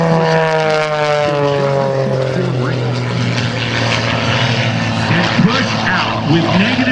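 Aerobatic propeller airplane at the 2009 Blue Angels Homecoming Airshow, engine drone rising and shifting in pitch as it accelerates in a steep descent, loud and steady while a voice talks over it.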